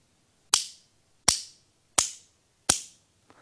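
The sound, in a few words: delay-like drum beat from two sticks held backwards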